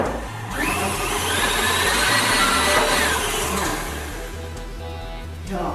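An electric hand mixer whirs steadily through muffin batter with milk added for bacon muffins, loud and close for several seconds, then winds down near the end, with faint background music underneath.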